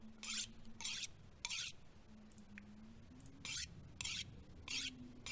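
A blade sharpened on a whetstone in The Long Dark, heard as repeated close, bright rasping strokes in an uneven rhythm, about seven passes, over a low ambient hum.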